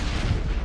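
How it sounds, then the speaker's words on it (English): A grenade blows up in the video game Mass Effect as a short, heavy, low rumbling boom with a dense roar that fills the whole moment, close and loud, without speech. "I'm just gonna waste all my grenades because they're bad in this game."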